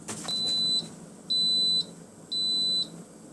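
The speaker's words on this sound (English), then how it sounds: "So it's beeping, that means it's done." An Instant Pot signals that black beans have finished cooking with three long, loud electronic beeps, each about half a second, evenly spaced and close by, with no voices.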